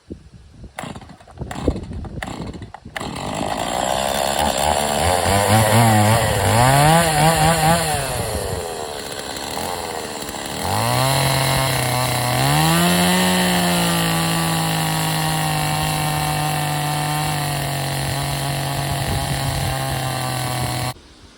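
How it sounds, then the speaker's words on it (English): A cordless power sander works a wooden yard post, its motor droning loud and steady with rising and falling pitch as pressure shifts, after a few short starts at the beginning and a brief dip midway. "Gotta love a cordless sander."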